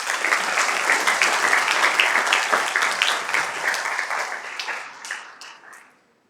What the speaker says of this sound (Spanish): de la doctora Marta Asunción Enríquez Prado, a quien pido aplausos respectivos